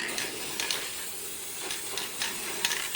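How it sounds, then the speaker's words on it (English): Clear fast-drying polyurethane sprayed from an aerosol can onto old motorcycle parts, including the coils, in a series of short, close hissing bursts over steady background noise. "Here's some clear polyurethane, fast drying."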